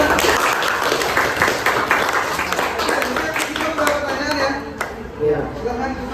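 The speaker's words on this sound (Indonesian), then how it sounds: "ya tepat sekali tepuk tangan ya." A classroom audience claps after a teaching practice presentation, a dense, bright patter of applause that runs for several seconds and thins toward the end, with voices mixed in.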